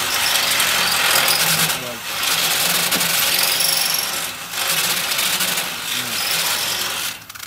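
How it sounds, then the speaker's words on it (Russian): A drill bores a hole into asphalt for rebar, grinding and hammering loudly and steadily in long bursts with brief pauses between them, close by outdoors. "сейчас будет просверливаться отверстие, буриться в это асфальт."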